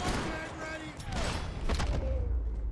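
Sniper rifle fire in Max Payne 3, set in a favela, with sharp gunshot cracks cutting through a loud, busy game mix of rumble and effects while a voice talks alongside.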